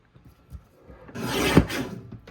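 A paper trimmer slices through a sheet of blue cardstock in one short rasping stroke, quiet at first and building to a brief louder scrape before fading.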